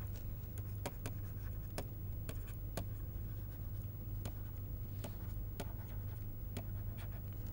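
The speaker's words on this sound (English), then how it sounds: "maybe I should write miscellaneous systems here" Pen or marker scratching across a board or paper in short, irregular strokes, set against a steady low hum in a quiet room.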